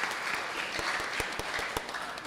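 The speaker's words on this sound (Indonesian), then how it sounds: "Boleh tepuk tangan semua untuk kalian yang sudah bekerja keras." An audience at a youth Christmas church service applauds, a fairly faint, steady patter of many hands with a few sharper individual claps standing out nearby.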